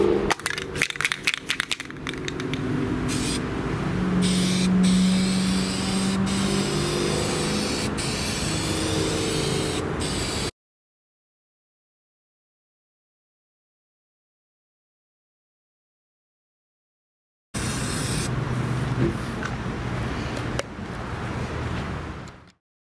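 Aerosol spray paint, primer and Rust-Oleum or Krylon stone-texture coating, sprayed inside a Baja Hobby L39 model jet, hissing steadily for about ten seconds, then a silent gap before another close burst of spraying.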